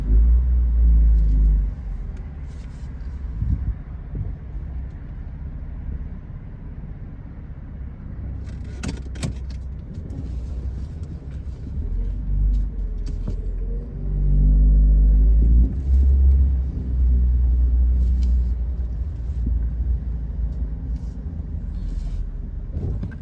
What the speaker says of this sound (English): Then we're gonna take her for a test ride and see if she rides any better.